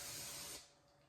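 Cooking spray hisses in one loud, close burst of about half a second over a pan of cinnamon rolls, then cuts off and leaves a faint room quiet.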